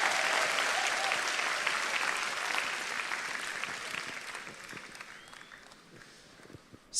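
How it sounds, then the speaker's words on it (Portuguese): Large congregation at a church gathering in Manila, Philippines, clapping in a dense, sustained roar that starts loud and gradually tapers off over several seconds. "Bata palmas para Jesus se você estiver batendo palmas para ele."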